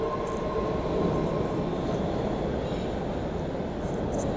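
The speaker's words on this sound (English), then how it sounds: "we just like to salute the train" A train rolling past nearby in the early morning: a steady, loud, heavy rumble with a faint high whine on top, continuous for the whole stretch with no voices.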